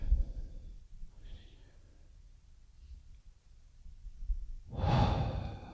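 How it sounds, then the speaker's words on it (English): A strong, deep breath drawn in during a guided meditation, rising as a loud, airy inhale near the end after a long stretch of near silence and faint earlier breathing. "And then another strong deep breath in."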